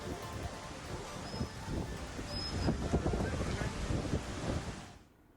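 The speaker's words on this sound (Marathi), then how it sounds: "जोरदार वाऱ्यासह पावसाला ही सुरुवात झाली" Strong wind with heavy rain lashes Mumbai, buffeting the microphone with a loud, rough roar that swells and gusts before cutting off abruptly at the end.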